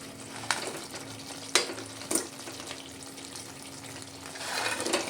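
Fried paneer tipped into a masala gravy in a pan, a soft steady sizzle with a few sharp clatters and splashes as the pieces land and are stirred.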